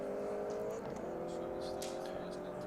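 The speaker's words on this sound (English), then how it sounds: "in one of the C.J. Wilson Mazda MX-5s" Mazda MX-5 race cars run on a racetrack, a steady loud engine drone with shifting pitch as cars pass, under continuous commentary from an announcer.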